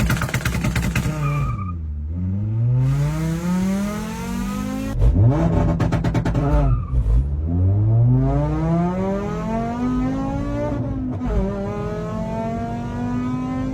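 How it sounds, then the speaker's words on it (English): Tuned VW 2.5 engine with a catless exhaust, loud and close, revving up repeatedly and bouncing off the rev limiter in harsh, rising sweeps that drop away between pulls. "But the rev limiter, when it's banging off that thing, hits super hard."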